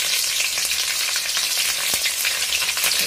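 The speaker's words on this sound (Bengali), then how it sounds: "ভেজে নেবো। দেখো পালং শাকটা আমি ঢেলে দিয়েছি" Spinach poured into hot oil already seasoned with five-spice seeds and dried red chili sizzles loudly and steadily up close, with a few crackles and pops, and no voices.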